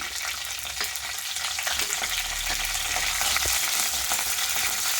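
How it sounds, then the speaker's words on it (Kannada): Cumin seeds, curry leaves and green chilies sizzle steadily in hot oil for okra gojju, a loud, close, continuous crackle with occasional stirring and no talk. "ಸ್ವಲ್ಪ ಜೀರಿಗೆ ಹಾಕ್ತಾ ಇದ್ದೀನಿ, ಸ್ವಲ್ಪ ಕರಿಬೇವಿನ ಸೊಪ್ಪು, 1-2 ಹಸಿಮೆಣಸಿನ್ಕಾಯಿ ಹಾಕ್ತಾ ಇದ್ದೀನಿ."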